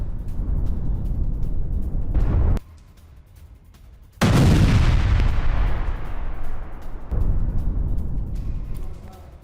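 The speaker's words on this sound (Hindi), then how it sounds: "तस्वीरें आपके सामने सेंट्रल गाजा में हुई इजरायली बमबारी की।" Israeli air strikes hit central Gaza with heavy booming blasts and rolling rumble, a brief quiet lull, then a huge explosion that slowly decays before another loud burst follows.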